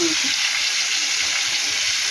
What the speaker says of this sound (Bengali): এটা নেড়ে ফিরছি, তাই মোটামুটি ভাজা হয়ে গেছে